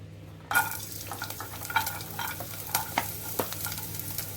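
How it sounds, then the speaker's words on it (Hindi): Onion and garlic hit hot oil with a soft burst of sizzling, followed by steady frying and occasional scrapes of stirring in the pan. "इसमें अभी हम डाल देंगे प्याज और लहसुन।"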